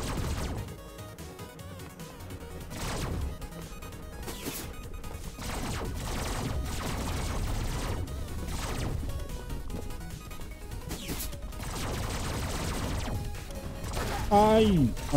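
Rapid bursts of gunfire from the roguelite platform action game 30XX, dense and continuous over busy game music and effects, with a player talking throughout.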